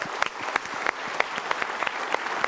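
A studio audience claps together in a dense, steady round of applause, sharp individual claps standing out briefly and evenly through the short burst.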